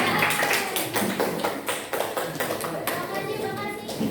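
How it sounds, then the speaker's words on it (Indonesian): Classroom applause for a student group, a few pairs of hands clapping in quick, uneven claps that carry on steadily for several seconds, fairly close and with no talk over them. "Beri tepuk tangan untuk kelompok."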